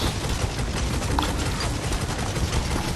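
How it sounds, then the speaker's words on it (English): Dense, rapid gunfire rattles on without pause in the shooter game Necromunda: Hired Gun, loud and close with overlapping punchy shots. "So the weapon sounds are really nice and punchy."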